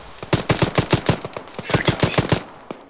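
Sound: machine gun fire in a video game

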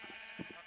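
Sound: sheep bleating in the video game Minecraft

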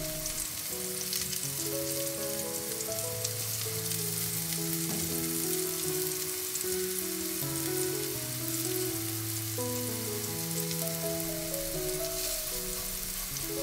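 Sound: prawn dangar frying in oil in stainless steel pan

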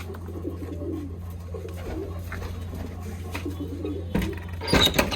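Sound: pigeons cooing

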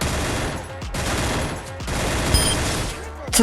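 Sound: gunfire in the video game Free Fire

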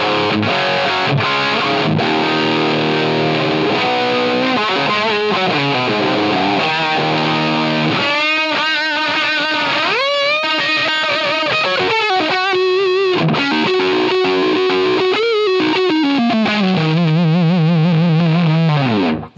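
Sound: electric guitar played through a loud overdrive pedal

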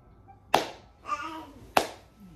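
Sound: golf clap, soft polite hand clapping

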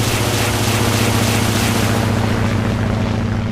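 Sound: rocket attack in the video game Atlantic Fleet

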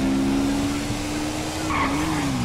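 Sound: tire squeal in GTA V video game

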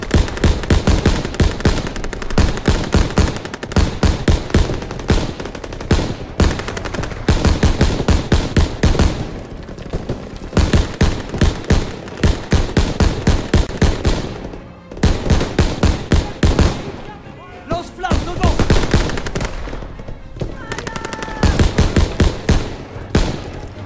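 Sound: machine gun fire in the video game Call of Duty WWII

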